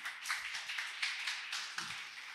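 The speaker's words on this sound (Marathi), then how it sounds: "त्यांच्यासाठी टाळ्या वाजवा माझ्या प्रियांनो." A church congregation claps along together, a quick, even run of soft palm claps that sounds somewhat distant and fairly faint, with no talking.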